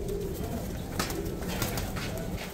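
Pigeons at a Baghdad bird market coo in soft, repeated throaty calls close by, set against a busy background hum of the market.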